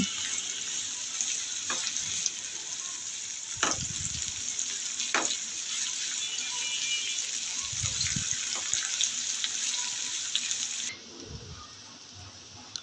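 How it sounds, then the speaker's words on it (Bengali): Chopped onions sizzle in hot oil in a pan, a continuous bright frying hiss with occasional stirring clacks and scrapes, holding steady before easing slightly near the end. "পেঁয়াজটাকে এবার তেলের সাথে ভেজে নেব।"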